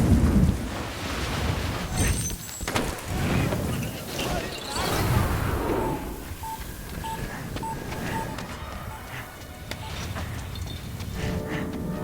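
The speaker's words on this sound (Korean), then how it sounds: "거대한 모래 폭풍이 도시를 강타하죠" Huge sandstorm striking a city in a Mission: Impossible film scene, a loud gusting roar with deep thuds, crashes and scattered electronic beeps, with voices under it.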